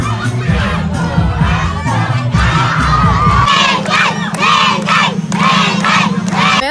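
A crowd at a muse contest in a local sports league shouts and cheers loudly and continuously, with children's shouts and chanting voices swelling in repeated bursts.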